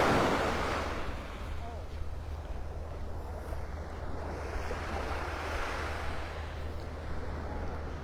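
Surf on the wide beach at Clam Pass Park in North Naples, Florida, a soft continuous wash of waves with light wind noise, faint and steady.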